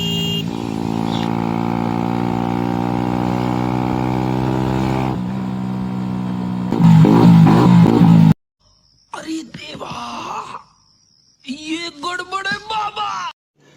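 A Bajaj Pulsar NS125 motorcycle ridden without an exhaust gives a loud, steady droning engine tone that rises into harsher revving bursts, then cuts out, followed by sharp voices speaking.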